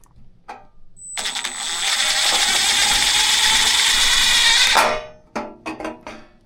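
A Milwaukee SubCompact impact driver runs at full speed, a loud high whine with rapid hammering that holds steady for almost four seconds before cutting off, framed by short clicks and handling knocks.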